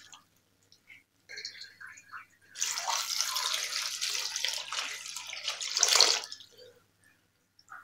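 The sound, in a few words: pouring water onto fenugreek leaves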